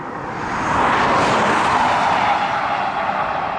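A car on a quiet rural road passes by, its rushing tire and engine noise swelling to a broad peak, then easing off.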